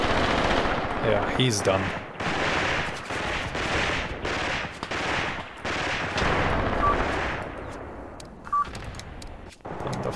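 Rapid machine-gun bursts and scattered rifle shots from a World War II battle in the tactics game Graviteam Tactics, dense and continuous throughout, with someone briefly speaking over the firing.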